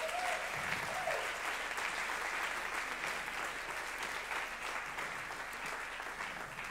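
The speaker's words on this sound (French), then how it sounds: "Je crois qu'on peut les applaudir." A church congregation applauding, a dense, even patter of many hands clapping that holds steady throughout at a moderate, slightly distant level.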